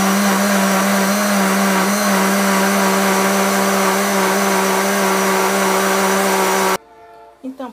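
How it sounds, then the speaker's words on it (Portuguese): A kitchen blender whirs loudly and steadily while mixing mango mousse, a continuous motor roar that runs for several seconds, then cuts off abruptly, leaving only faint handling noises. "tudo já está no liquidificador, é só a gente bater"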